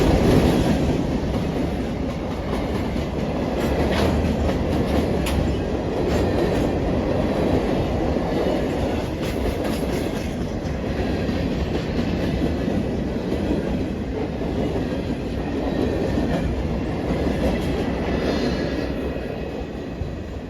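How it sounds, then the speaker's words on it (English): A CSX CM44AC diesel locomotive hauling a train past, continuous rumbling roll of wheels on rail with clickety-clack and faint squeal, steady and fairly loud throughout, no voices. "CSX 7026 is a CM44AC with a YN3C paint scheme on it."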